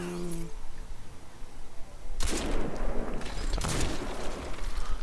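Gunfire in Crysis 2, starting quiet then erupting into a sustained burst of rapid shots and impacts that continues to the end, with a voice faintly present.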